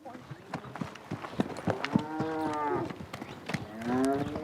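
Cattle on a Nevada ranch moo repeatedly, several long drawn-out calls rising and falling over a few seconds, fairly close and loud, with hoof clops and movement noises in between.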